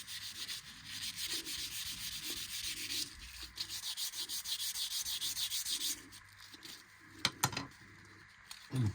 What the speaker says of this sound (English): Each of the stick in turn, just by wrapping the sandpaper around it.